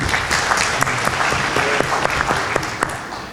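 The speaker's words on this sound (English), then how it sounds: "You're going to get tired of clapping if you clap that easily." An audience at a candidates forum in the Sooke Community Hall claps for a few seconds, steady overlapping claps with a few sharper individual hits standing out.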